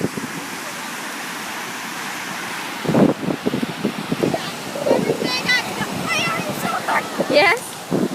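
Ocean surf washes steadily on a beach beside a boardwalk, a continuous rushing roar mixed with wind buffeting the microphone. People talk close by over the waves in the second half.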